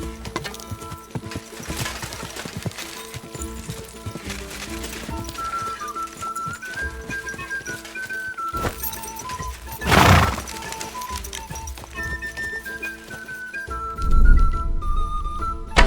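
Horse hooves clip-clop steadily in Kingdom Come: Deliverance II, mixed with game music, with a couple of louder snorting or whinnying bursts toward the middle and end.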